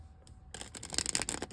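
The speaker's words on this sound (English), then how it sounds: "One more shuffle for Aries." Tarot cards being shuffled by hand at a reading, a quick run of crisp riffling and flicking that starts abruptly after a quiet moment and stays close and busy for about a second.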